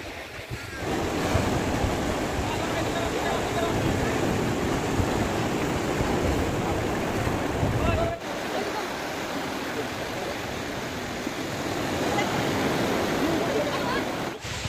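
Sea waves on Digha beach roar steadily in a broad, continuous wash of surf, with wind buffeting the microphone; a voice talks faintly underneath.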